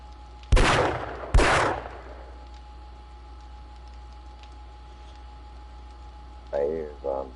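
Two loud, sharp gunshots ring out close together in the zombie survival game 7 Days to Die, each with a brief tail, followed by quiet background and a short burst of talking near the end.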